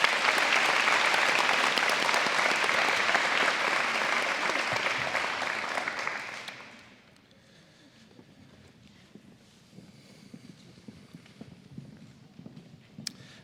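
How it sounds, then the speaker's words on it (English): A school scholarship night audience gives a loud round of applause that holds steady for about six seconds, then drops sharply. Only faint room noise and scattered small sounds follow. "Let's give him one more round of applause"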